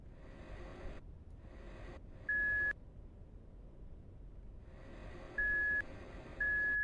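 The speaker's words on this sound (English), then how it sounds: "A reverse sound. Beep." A vehicle's reversing alarm in a story video game gives three steady, clear electronic beeps at intervals over a quiet hum, with no voices.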